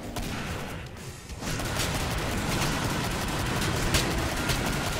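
Dense, constant gunfire from the Killing Floor video game fills the clip: a loud continuous crackling barrage after a brief dip, with no voices heard.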